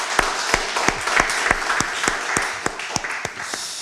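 A church congregation claps in a steady unison beat, about a dozen sharp even claps in under four seconds, with a faint wash of scattered clapping underneath.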